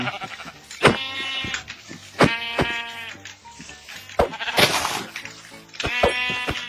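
Sheep bleat repeatedly in the Minecraft video game, a loud, close series of wavering, nasal baa calls with short gaps between them.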